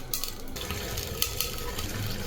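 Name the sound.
washed rice added into boiling water in pot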